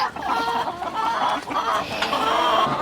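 Hens, including a broody white hen, clucking nearby, a run of short throaty clucks and murmurs over a faint farmyard background.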